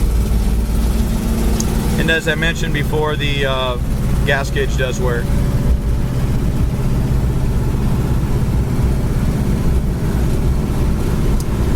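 A 1968 Pontiac Firebird engine idles steadily with a low, constant rumble and an electric cooling fan running, while someone talks over it for part of the time.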